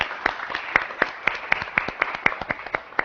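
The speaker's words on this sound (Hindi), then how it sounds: "बहुत सारी तालियां भाई।" Studio audience on a Pakistani morning show claps in a sparse, fairly regular rhythm, about a dozen sharp distinct claps spread across a few seconds with a soft crowd wash beneath.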